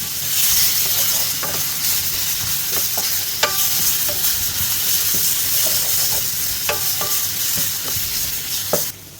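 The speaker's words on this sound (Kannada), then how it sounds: "ಇದು ಸಣ್ಣ ಉರಿಯಲ್ಲೇ ಫ್ರೈ ಮಾಡಿ" Onion and garlic frying slowly over a low flame in oil for a rasam: a continuous close sizzle broken by repeated spoon scrapes and clinks against the pan, with no voices.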